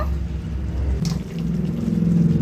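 Water runs into a bowl as it is rinsed, a close, steady gushing pour that deepens slightly as the bowl fills.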